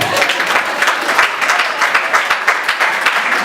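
A church congregation applauding during a worship service, close, dense, rhythmic clapping that holds steady throughout.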